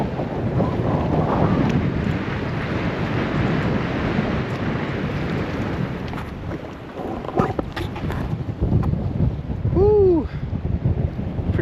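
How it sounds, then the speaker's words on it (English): Strong lakeside wind buffets the microphone in heavy, roaring gusts, with lake water sloshing beneath and a brief lull before the blasts return. "These wind gusts are really picking up."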